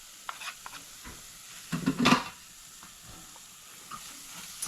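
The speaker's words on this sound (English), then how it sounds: "And you just have to keep on stirring." A thick Persad Diwali sweet being stirred in a pot on the fire, with quiet scraping strokes and a faint sizzle, and one louder burst of spoon scraping in the middle, heard close with no speech.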